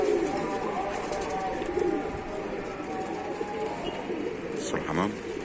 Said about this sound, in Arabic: بص الحمام